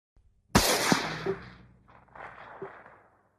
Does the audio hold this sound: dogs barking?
no